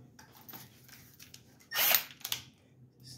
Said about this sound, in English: So let me drill a hole in this bad boy first.